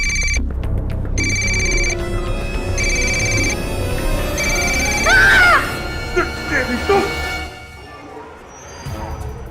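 Mobile phone ringtone repeating in several evenly spaced bursts, fairly loud and clear, with voices speaking between and over the later rings.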